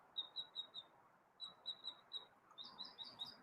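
A small bird chirps in a neighbour's tree, giving repeated quick high chirps in three short bursts, clear and fairly close against a quiet background.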